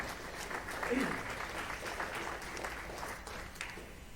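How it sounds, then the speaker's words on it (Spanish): Church congregation applauding during a worship service: an even, sustained wash of clapping from many people at moderate volume, tapering slightly toward the end. "Un aplauso a nuestro Dios porque se lo merece."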